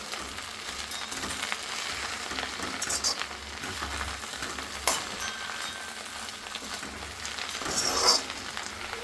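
Amaranth leaves frying and being stirred in a pan, a continuous sizzle with scattered scraping clicks and a couple of sharper utensil knocks against the pan.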